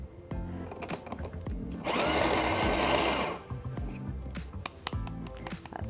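A La Specialista Touch espresso machine grinds coffee beans with a loud, steady burr whir lasting about a second, set between softer clicks and handling noises of an espresso setup.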